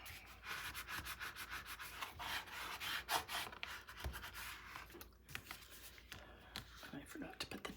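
Paper burnished by hand on a 9 x 9 scrapbook mini album page, a dense run of dry rubbing strokes in quick rhythm, close and fairly steady, with scratchy bursts through the stretch.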